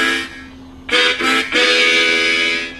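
A Lee Oskar harmonic minor harmonica plays quick draw notes on holes one and two, a bright reedy chord that sounds, pauses, then pulses twice and sustains, loud and close.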